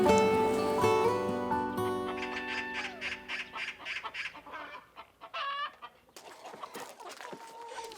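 Chickens kept by a lakeside fisherman's home cluck and squawk loudly and close up, a rapid run of calls after an opening drawn-out crow-like cry.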